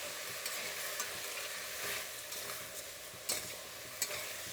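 A spoon works through sambar with chili powder in a pan, producing a quiet, continuous low sizzle and soft scraping with a few faint clinks.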